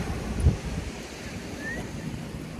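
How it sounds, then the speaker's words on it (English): Steady surf and gusting wind fill a beach walk, with wind buffeting the microphone and one brief low thump near the start. No one speaks. "We are walking on the beach."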